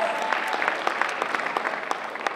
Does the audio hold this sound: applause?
yes